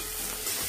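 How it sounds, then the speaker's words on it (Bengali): Onion frying in a pan for a cabbage ghonto, a brief steady sizzle heard close up with no other sound. "এখানে বাঁধাকপির পেঁয়াজ ভাজছে"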